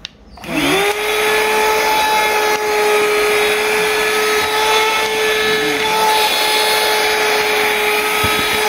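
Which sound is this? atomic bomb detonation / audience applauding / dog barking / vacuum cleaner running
vacuum cleaner running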